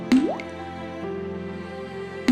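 Water drips, with a few distinct plinks and a squishy falling-pitch drop standing out over a quiet resonant background, close and clear, with no talking.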